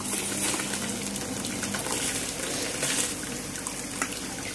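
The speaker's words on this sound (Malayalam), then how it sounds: "അപ്പോ വെള്ളം തിളച്ച് വന്നിട്ടുണ്ട് കേട്ടോ. അരി നമ്മള് അരിയിട്ട് കൊടുക്കാണ്." Rice being added to a pot of boiling water for mutton biryani, a loud, dense rush of bubbling and pouring water that stays constant throughout.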